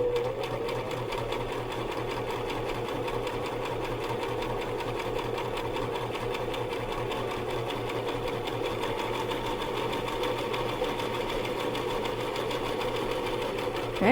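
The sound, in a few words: sewing machine stitching a quilt square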